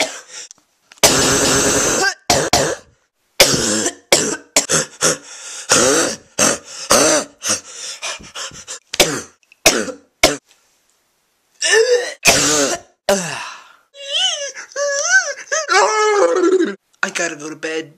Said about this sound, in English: I've been having a bad cough lately.